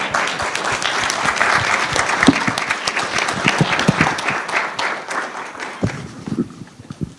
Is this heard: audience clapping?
yes